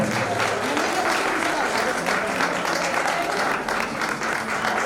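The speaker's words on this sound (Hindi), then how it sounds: "यदि ताली अच्छे से बजाओगे शरीर में गर्मी आता है" An audience at a foundation-stone ceremony for a Jain temple under construction claps continuously and loudly, a dense, even roar of hands that lasts the whole stretch, with a voice faintly underneath.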